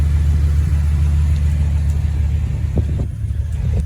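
A 1967 Pontiac GTO idling just after being pulled out of a building: a loud, steady low engine rumble heard up close, with a few faint clicks and knocks over it and no talking.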